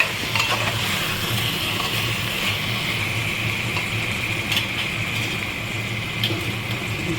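Chicken and potatoes are stirred in a pressure cooker, producing a steady, close scraping and rustling with a continuous sizzling hiss, even and moderately loud throughout.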